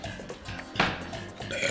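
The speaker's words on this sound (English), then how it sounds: "The judge burped." A single close burp from a judge on a podcast, a short loud broadband belch near the middle of an otherwise quiet stretch with faint room noise.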